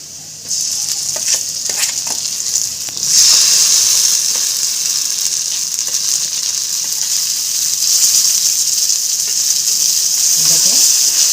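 Yardlong bean paste hits hot oil with fried onion and garlic, letting out a loud, steady sizzle that swells after a few seconds and keeps hissing, with faint stirring scrapes underneath.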